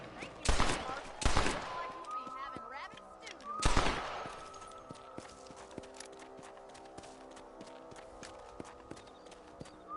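Gunfire in the Red Dead Redemption video game as rabbits are shot: three loud, sharp blasts in the first four seconds, each followed by a ringing tail, then a quieter stretch of small clicks and ambient game sounds.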